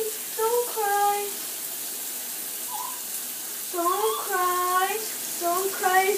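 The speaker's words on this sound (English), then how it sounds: "It's just a shower." Shower water runs steadily while a small dog named Tito is bathed, a soft continuous hiss beneath the dog's repeated high-pitched whimpering and crying.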